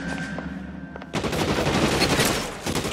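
Gunfire in L.A. Noire erupts as rapid, loud, sustained shooting that bursts in abruptly after a quieter stretch of background game sound and continues densely to the end.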